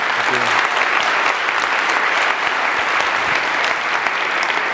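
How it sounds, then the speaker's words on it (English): Audience applause for a speaker fills the room, a steady dense wash of clapping that holds evenly loud throughout. "let's have a big round of applause"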